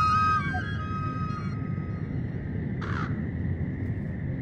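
Birds calling in the video game Sylvio: a couple of harsh, crow-like caws ring out over a constant low droning ambience, with a brief tonal chirp near the end, moderately loud.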